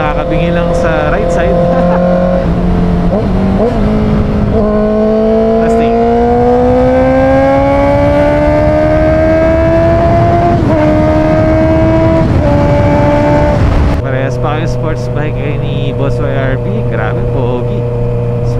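A Honda CBR650R motorcycle on the move, its engine note rising steadily through the gears in long, sustained pulls, loud and close over a constant roar of wind and road noise, with a shift to lower, steadier cruising near the end.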